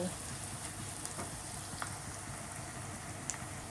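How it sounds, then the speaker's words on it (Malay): Onions fry in oil, heading toward golden for mee goreng, giving a steady, dense sizzle that fills the scene close up, with a few faint clicks and scrapes over it and no talking. "kita tunggu bawang ni sampai dia kekuningan dan naik bau ya guys"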